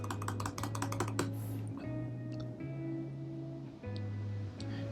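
Card details are typed on a computer keyboard in fast clicking bursts and a few separate keystrokes, close and crisp over a steady low electrical hum.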